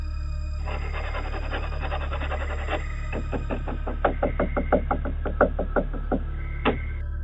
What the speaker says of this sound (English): we can also hear intense scratching on the wooden door and continuous knocks